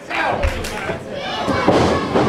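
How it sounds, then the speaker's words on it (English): A wrestler drives an opponent into the mat with a DDT at an independent wrestling show, landing as a dull thud amid crowd noise and a commentator's voice. "DDT by Plazma"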